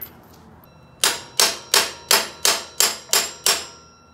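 Eight loud metallic hammer blows land in a steady rhythm, each a sharp clang with a short ringing decay, close by and with no talking, as a castle nut is worked off a Yamaha YFZ450 ATV during teardown.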